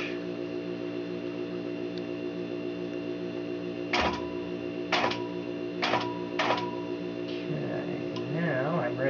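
A longarm quilting machine is pushed along a seam on a quilt. Its close, steady motor hum carries a few sharp clicks or ticks in the middle, and a brief voice surfaces at the very end.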